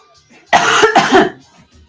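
Two sharp coughs follow one another closely, loud and near, with faint background murmur before and after.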